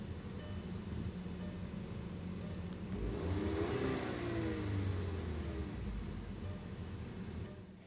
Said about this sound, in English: you can push this button to start the vehicle